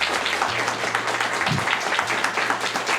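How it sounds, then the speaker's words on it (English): Steady applause from a crowd at a speedrun event showcase, a dense wash of clapping filling the whole stretch at an even loudness, with a low hum underneath. "Can I have one more applause though for Genesis"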